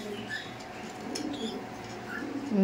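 A racing pigeon at a pigeon loft market coos softly in short low phrases, close by, over a faint hum of background noise.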